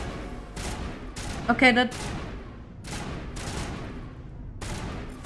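Bursts of gunfire in Mass Effect aimed at a rock, several separate volleys spaced a second or so apart, with someone speaking briefly in between.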